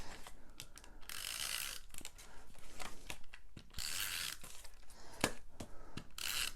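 A Stampin' Up Snail adhesive tape runner rolls across paper in short bursts, a close whirring ratchet-like buzz repeated several times, separated by light taps and handling sounds.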